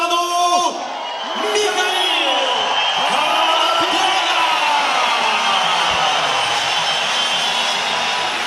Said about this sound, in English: Huge pop from the crowd here in Rostov, this sold-out arena.